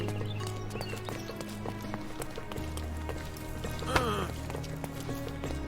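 Horse hooves clip-clop at a trotting pace in the game Sherlock Holmes Chapter One, steady rhythmic clops over a low ambient hum with a brief sharp sound midway.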